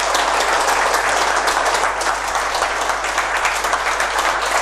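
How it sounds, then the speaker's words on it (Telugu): An audience at a class on Jonathan Livingston Seagull breaks into dense, sustained applause, many hands clapping evenly and loudly throughout with no break. "దీంతో మనం అందరం కూడా చక్కగా క్లాప్స్ కొడదాము"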